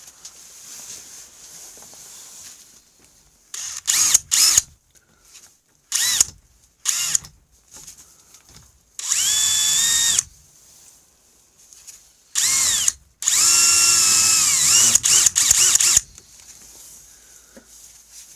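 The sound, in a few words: carbide chamfer bit on drill grinding snowmobile crankcase metal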